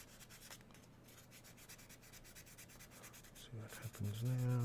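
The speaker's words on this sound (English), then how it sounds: "Let's go back over this with the rough grit." Rough-grit sandpaper scrubs over a surface in quick, steady back-and-forth strokes, a dry raspy friction close by, before a voice starts talking near the end.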